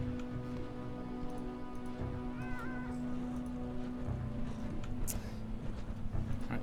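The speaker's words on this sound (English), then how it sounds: "Can everybody hear the cats?" Several cats meow and caterwaul in the lunatic area of the video game Underrail, with a steady drone and clicks around them and no one talking over them.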